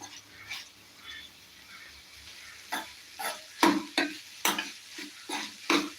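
Homegrown okra frying in a pan, a quiet sizzle broken by a run of sharper scraping and tapping stirs that come in a loose rhythm over the second half, heard close and without speech.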